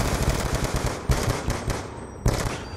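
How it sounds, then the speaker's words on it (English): Rapid automatic gunfire in Black Ops 2 Search & Destroy on the Raid map: a long sustained burst of sharp shots, a brief pause, then another loud burst, with no talking. "I gave him a lot of warning shots."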